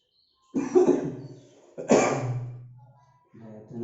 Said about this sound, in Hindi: अचानक से खांसी आ गई।